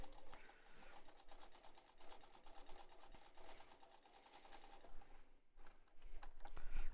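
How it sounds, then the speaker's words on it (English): A sewing machine stitches darts into a fabric face mask, its needle chattering in a fast, steady rhythm. The sound is quiet and close, briefly slows near the fifth second, then resumes. "So now I'm sewing my two darts"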